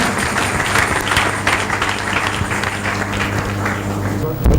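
Church congregation at the Mercy of God Church clapping hands during a worship service, a steady dense patter of claps with talk and background noise mixed in throughout.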